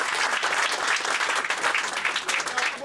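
Audience applause for guests at a meeting: dense, steady clapping from a crowd, loud and close, running unbroken throughout.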